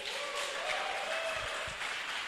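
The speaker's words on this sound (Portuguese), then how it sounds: "Vamos aplaudir o Senhor?" Church congregation clapping together for a couple of seconds, a dense wash of applause filling the room without speech.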